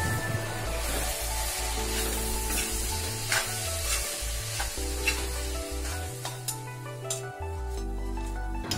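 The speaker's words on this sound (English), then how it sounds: "Finally, I'll add the noodles and give everything a good mix." Noodles stirred and tossed in a hot frying pan for chicken Hakka noodles, steady sizzling with repeated scraping and clinking of a utensil against the pan, close and loud with no voices.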